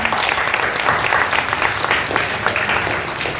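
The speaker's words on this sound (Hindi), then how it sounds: "जरा सब लोग एक बार ताली बजाएं।" Audience applause at a Hindi devotional storytelling gathering, a dense, steady clapping from a crowd that holds evenly for the full few seconds, close and fairly loud.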